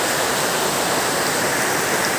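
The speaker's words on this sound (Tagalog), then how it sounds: "lakas ng ulan mga sisid" Heavy rain pouring outside a house, a dense, loud and constant hiss of falling water that fills the whole span, with no talk over it.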